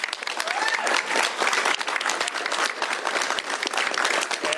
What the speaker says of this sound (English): A round of applause once again for Senator Kelly.